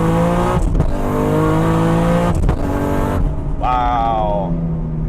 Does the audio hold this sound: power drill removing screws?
no